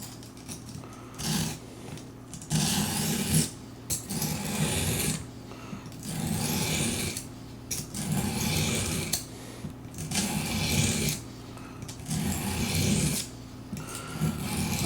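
Knife blade stroked repeatedly along a stone on an Apex Edge Pro sharpening system after its bevel was ground off, a steady rhythmic rasping of about eight close, fairly loud passes with short pauses between.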